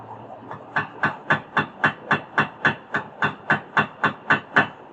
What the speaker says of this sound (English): you can take your straight screwdriver and just tap it a little bit